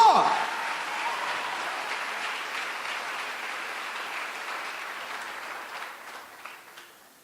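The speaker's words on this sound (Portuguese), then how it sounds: "Isso era para dar um aplauso ao Senhor" Church congregation applauding in praise, a broad wash of clapping that begins strongly and slowly fades over several seconds, moderately distant.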